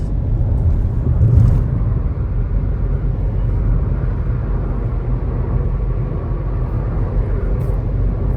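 Steady low engine and road rumble from inside a car cruising at 100 km/h on a highway near Ahmedabad in Gujarat, continuous and even for the whole stretch, with faint brief ticks and no talk.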